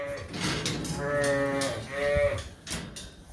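Sheep and lambs calling inside a lambing barn, with two drawn-out harmonic bleats or moos in the middle over a busy, continuous background of livestock noise.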